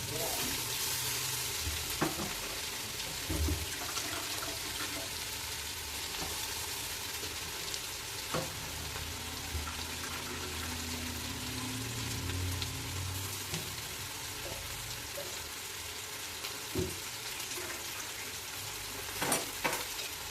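Quiet, steady sizzling of poha and potatoes frying in a pan, broken by occasional scraping clicks as they are stirred.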